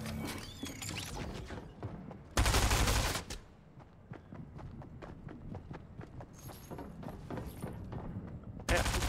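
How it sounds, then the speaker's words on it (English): Gunfire is traded back and forth in a Fortnite match, with rapid bursts of shots, some sharp and near, others fainter, broken by loud static-like whooshes and sparse quieter stretches. "They're just shooting back and forth"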